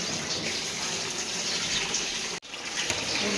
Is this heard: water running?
yes